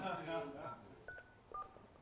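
Telephone keypad dialing tones, a few short beeps in a quick uneven sequence after a voice at the start, heard fairly quietly in an indoor studio setting.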